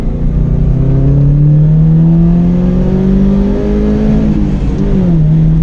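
A vintage Alfa Romeo Giulia Sprint GT engine revs up loud and close, its pitch climbing steadily for several seconds, dipping briefly near the end, then settling into a steady drone.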